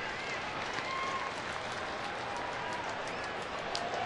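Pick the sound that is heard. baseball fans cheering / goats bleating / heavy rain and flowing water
baseball fans cheering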